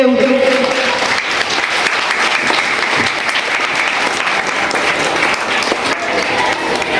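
An audience at a school function claps steadily together, a dense, continuous round of applause held at even loudness from start to finish.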